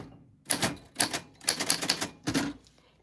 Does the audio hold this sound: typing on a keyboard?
yes